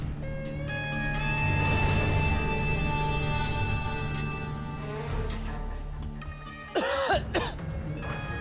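A woman coughing in a Hindi television drama scene, with a short burst of harsh coughs near the end over a background music bed.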